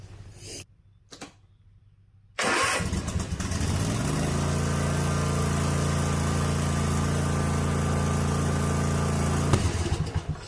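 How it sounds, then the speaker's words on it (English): A car engine cranks and catches after a few quiet seconds, then settles into a steady, loud idle that runs on to the end. "Now it's telling me to start the engine."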